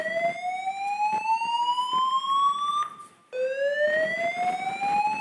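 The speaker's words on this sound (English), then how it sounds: "that the fire alarm?" A building fire alarm sounding loudly with a steady rising electronic tone that repeats in two long sweeps, a brief break between them, over faint background noise and no speech.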